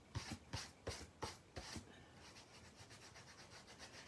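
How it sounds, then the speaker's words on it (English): Close, rhythmic rubbing strokes scrape wet paper off a wooden board during an image transfer, five strong swipes followed by softer, quicker rubbing. "if you still see some of the white, just keep rubbing till you get off as much as you want"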